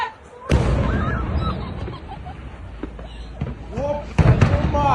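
A large explosion destroying the Russian ship Askold, heard as a heavy boom followed by a sustained rumble and a second loud blast, with people talking and cheering throughout.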